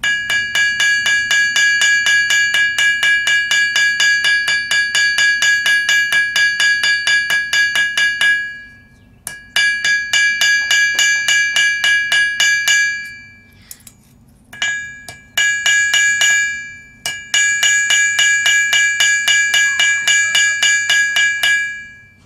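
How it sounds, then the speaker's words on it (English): Rapid, evenly spaced ball peen hammer blows ring out on an anvil while metal rose petals are forged, each strike bright and bell-like, in long runs broken by brief pauses. "I'm taking my ball peen hammer. I'm just going to hammer out the edge of the petals"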